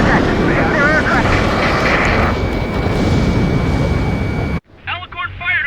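Enemy aircraft roar past in the combat game Ace Combat 7, a loud, sustained engine rush that cuts off abruptly, with radio voices talking over it.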